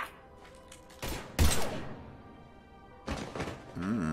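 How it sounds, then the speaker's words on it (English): Gunfire in Mass Effect 3 on the Citadel: a few loud broadband bursts, a heavy blast near the start and another cluster toward the end, separated by a quieter stretch of game ambience. "Now open fire!"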